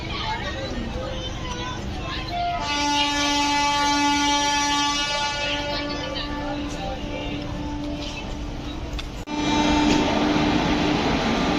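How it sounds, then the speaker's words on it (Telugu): A WAP-4 electric locomotive heading train 16751, the Chennai Egmore–Rameswaram express, standing at a platform and sounding a long, loud two-tone horn for several seconds, then a short sharper blast, amid station bustle and voices. "ఈరోజు మనల్ని పుల్ చేయబోయే లోకో ఇదే"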